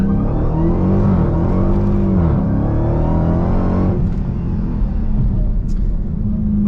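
A Dodge Challenger Hellcat Redeye Super Stock accelerates hard in a 0-60 run. Its engine drone climbs and shifts pitch, heard loud from inside the car, with talk over it.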